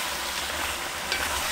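Squid and vegetables stir-fried fast in hot oil, a dense continuous sizzle with scraping stirring noises, close and steady for a brief moment.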